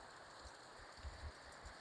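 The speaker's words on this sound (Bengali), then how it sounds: "দেখেন প্রচুর পরিমাণে বৃষ্টি হচ্ছে আজকে" Continuous heavy rainfall pours down as a steady hiss, with a few soft low thumps of drops hitting a surface; no speech.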